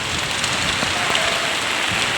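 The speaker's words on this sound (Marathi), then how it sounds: "ती पाऊस चालू आहे ना" Steady rain falls without a break, a dense, even hiss of drops on surfaces close by, with no voices.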